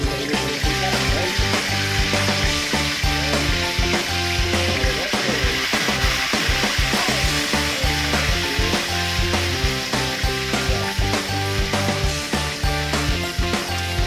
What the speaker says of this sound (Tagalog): piprituin muna natin yung ating pampano bago natin tuluyang lutuin